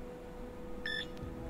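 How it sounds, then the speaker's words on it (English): Input beeps sound in Jurassic Park: The Game, a short clean electronic tone followed by a brief second blip, faint over a low steady hum. "Beep, beep, beep."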